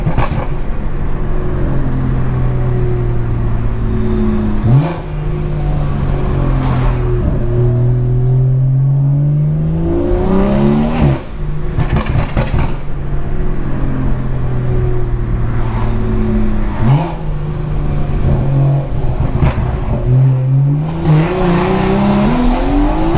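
A loud BMW with a B58 engine drives through downtown city streets, its exhaust note rising and falling through repeated gear changes, with rumbling revs and shifts heard up close for the whole stretch.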